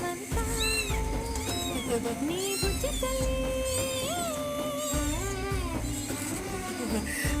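Kittens crying indoors, high thin meows repeating almost without pause, each call rising and falling, close and fairly loud over a steady low background hum, with no clear talking.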